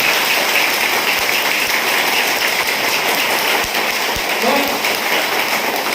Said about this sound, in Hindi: तो मैं चाहता हूँ एक बार तहे दिल से जोरदार तालियां होना चाहिए हमारे सिस्टम को।